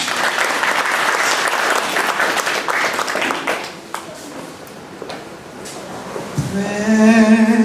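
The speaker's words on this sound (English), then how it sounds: "Let's give them a round of applause" An audience in a gallery applauds a musical group, a loud, dense round of clapping that fades away, followed by a sustained tone at the close.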